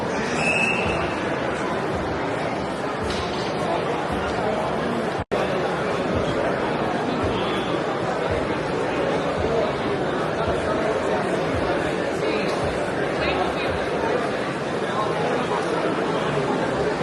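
Dense crowd chatter fills a busy indoor hall at the Great Train Show in Costa Mesa, California, a constant murmur of many voices close and far, with a brief cut partway through.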